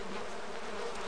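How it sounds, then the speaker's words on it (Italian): Flies buzz steadily in the horror video game Outlast II, a close, continuous droning hum with no pauses. "Il rumore è provocato dalle mosche."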